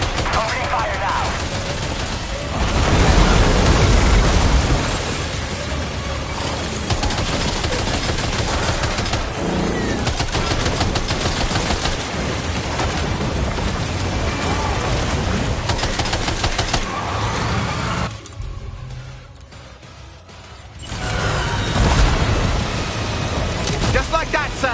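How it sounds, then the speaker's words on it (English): Sustained gunfire in the video game Death Stranding 2, dense bursts of automatic shots with louder blasts near the start and end, a quieter gap toward the close, mixed with game effects and some voices. "Opening fire now."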